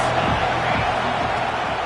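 Dense stadium crowd noise roars steadily at a Kentucky college football game, a loud continuous wash of cheering and yelling from many voices with no clear break.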